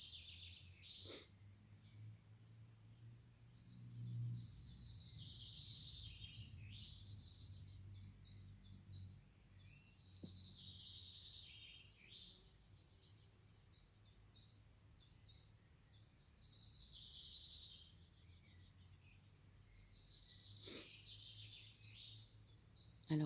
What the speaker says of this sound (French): le chant des oiseaux, le bruissement de l'herbe